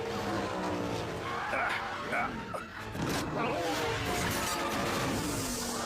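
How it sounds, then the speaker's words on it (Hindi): A race car skids and slams into a wall at the fourth turn, then flips over: loud engine noise, tire squeal and a crash impact, with voices talking over the action. "चौथे मोड़ पर गड़बड़, मर्फी दीवार से भिड़कर उलट गए हैं।"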